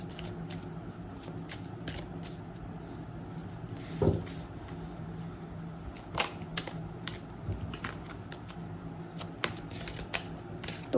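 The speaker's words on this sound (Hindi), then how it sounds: "फटाफट कार्ड शफल कर लेते हैं बिना कोई टाइम वेस्ट किए" Tarot cards shuffled by hand in a quiet room, giving a soft, steady riffling texture with a few sharper clicks and taps scattered throughout, fairly faint and close with no talking.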